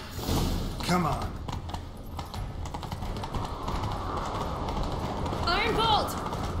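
Horse hooves gallop in The Witcher 3 in a steady, muffled rhythm under game music and ambient noise, with a brief whinny-like call near the end.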